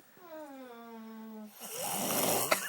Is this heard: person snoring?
yes